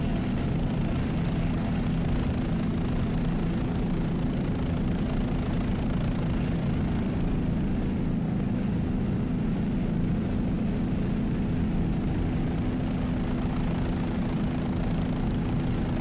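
A racing powerboat with a Mercruiser 500 horsepower inboard engine drones steadily, a loud continuous low roar that holds without a break, with no voices.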